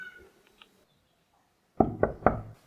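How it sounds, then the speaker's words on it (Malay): Three loud, evenly spaced knocks on a door ring out close by after near silence, preceded by faint rustling. "Cuba ketuk"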